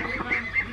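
A muscovy duck on a rural farm gives a few short, nasal honks close by, with no talking.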